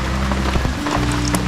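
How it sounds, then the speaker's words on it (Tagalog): Steady overnight typhoon rain patters on a surface, a continuous close hiss with scattered droplet ticks. "Magdamag ang ulan. Mula kagabi."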